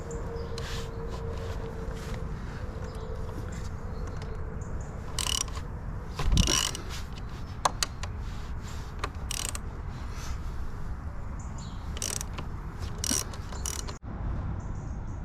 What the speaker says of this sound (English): So I've loosened the two bolts.